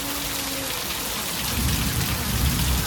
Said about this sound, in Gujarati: હવે વરસાદ પડ્યો કાટકો ચાલુ છે વીજળી ચાલુ છે